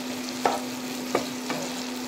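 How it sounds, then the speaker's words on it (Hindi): Red and green capsicum, tomato and chili fry in a pan with a steady close sizzle, broken by three sharp spatula knocks, set against a constant low hum. "सब एक साथ फ्राई करना है।"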